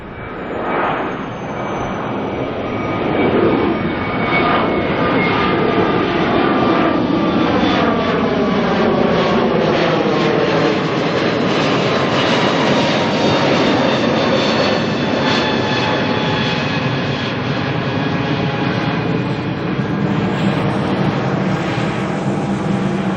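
Jet airliner NZ187 departs for the Gold Coast, its engines a loud, sustained roar with a shifting whine that swells early and holds strong for over twenty seconds, with no talk over it.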